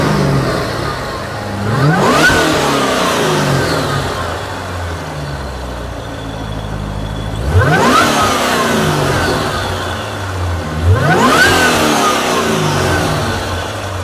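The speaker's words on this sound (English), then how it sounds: "I don't want to throw too many revs in." A car engine revs hard three times, each rev climbing in pitch and then falling back to a rumbling idle, loud and close.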